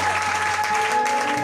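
A church congregation applauding during a French-language service led by Pastor Gode, a dense, even wash of clapping that lasts the whole short stretch.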